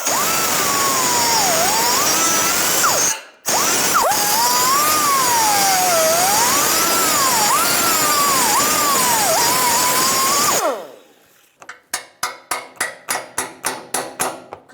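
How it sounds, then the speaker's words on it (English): A cutting wheel grinds through rivets on a 1992-1996 Ford F-150 air deflector, a loud, close, wavering high whine for about ten seconds that then stops, followed by a quick run of sharp metallic taps. "you can take a cutting wheel like I'm going to, and I'm going to cut it right straight down the back"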